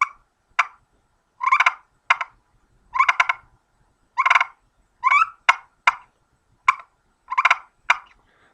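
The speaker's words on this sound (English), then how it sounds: "So I'm just clucking with the fingers and adding the twist, which will give it a run together." A turkey call made on a nail friction call: a series of sharp clucks and short rolling runs of yelps, spaced irregularly, close and clear with no talking.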